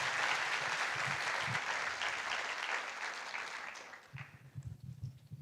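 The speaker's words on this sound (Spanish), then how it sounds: "Un aplauso para Itzel y 50 puntos." Conference audience at a Loki-themed talk applauding, steady clapping that fades after about four seconds as a low voice begins.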